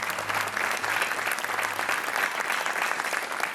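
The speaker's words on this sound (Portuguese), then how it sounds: "Um aplauso para o Super Joker Miguel e um aplauso também para o Carlos" Studio audience applauding on a Portuguese TV quiz show, a steady, dense clapping that fills the whole stretch evenly at close range, with no voices rising above it.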